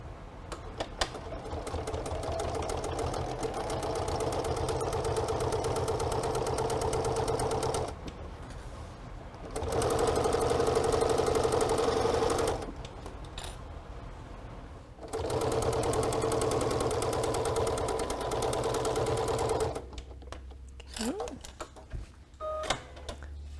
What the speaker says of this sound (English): I want to make sure that I back stitch at the beginning and at the end of each one of these seams as well.